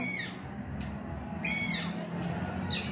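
Bird calls repeat in short, high bursts over a steady low background hum, with a few separate chirps between them.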